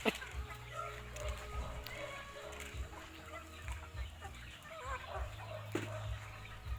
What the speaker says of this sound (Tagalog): Nagpapakain ng manok.